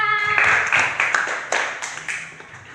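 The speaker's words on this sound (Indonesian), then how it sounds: "beri tepuk tangan untuk Mbak Diva." A classroom group gives a round of clapping, starting abruptly after a faint tone and continuing as quick, uneven claps that gradually thin out and fade, with no talking over it.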